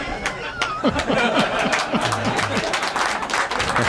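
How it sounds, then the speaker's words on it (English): Applause and scattered claps from an audience at an artistic three-cushion billiards exhibition, steady and moderately loud, mixed with murmurs and chuckles, with a voice speaking over it. "I can't help applauding myself"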